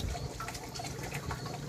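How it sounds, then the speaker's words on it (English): Water in a barrel aquaponics setup, churned by pulsing air bubbling at the surface beside a draining flow, a continuous close gurgling and splashing with a low rumble underneath. "it's like a waterfall in water and just air pulsing through it as it's agitating the top of the water"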